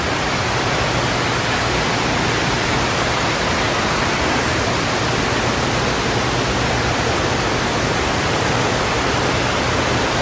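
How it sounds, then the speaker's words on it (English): Running water rushes continuously in a dense, even hiss, like a fountain or cascade close by, inside Sam's Town casino in Las Vegas, with no other sounds standing out. "I love the sound of the running water."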